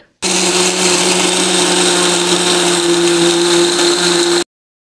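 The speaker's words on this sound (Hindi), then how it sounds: "अब मैंने 500 ग्राम बादाम लिए हैं इन्हें भी हम मिक्सर में बारीक पीस लेंगे" An electric mixer grinder pulverising 500 grams of almonds runs loud and steady with a whining motor hum for about four seconds, then cuts off abruptly, with no talking over it.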